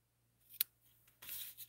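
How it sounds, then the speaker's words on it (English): Scissors reserved for ribbon trim the ribbon ends at a paper-crafting stamping table. A sharp, close snip is followed by a longer, brushing cut and a final short rasp in a quiet room. "get my scissors that I only use for ribbon out"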